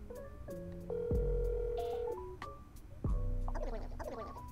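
An outgoing phone call ringing back on the caller's end, with two long electronic tones separated by a pause and bits of chirpy game-like sound in between.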